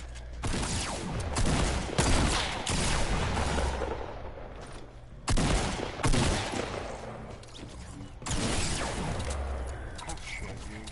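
Rapid bursts of gunfire from the Fortnite video game come in repeated loud volleys with short gaps, while players talk over the shooting.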